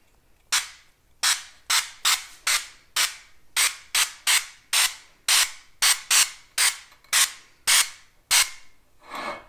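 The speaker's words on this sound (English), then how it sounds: "I'm just gonna spray my tin." Repeated short bursts of cooking spray on a muffin tin, about sixteen quick hissing sprays in an uneven rhythm, close and fairly loud, with no talking.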